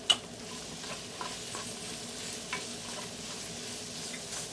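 Chicken fajita filling with peppers and oregano sizzles softly in a pan while a spoon stirs it, with a few light scraping clicks over a quiet, even frying hiss.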